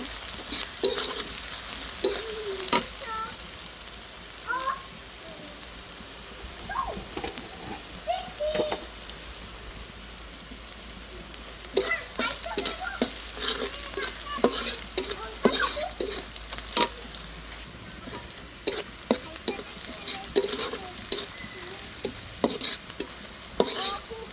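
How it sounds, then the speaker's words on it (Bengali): Onions frying in a pan at home, a continuous close sizzle with frequent clattering stirs and scrapes; a voice speaks occasionally in the background. "পেঁয়াজ ভাজতেছি"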